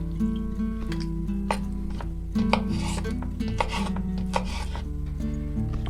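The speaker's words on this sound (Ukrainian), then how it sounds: "Я одразу взяла чищений, ріжу його такими теж менше, ніж картопля, але теж не дрібними шматочками." A knife rasps and chops steadily on a board, slicing peeled herring into medium pieces for a rustic salad. The cuts are close and moderate in loudness, with faint clatter and no talk.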